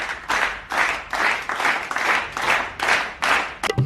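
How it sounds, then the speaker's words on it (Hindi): A few people clap in short rhythmic bursts, about seven or eight quick rounds in a row, close and fairly loud, with no talking over it. "ताली बजाते हैं ये"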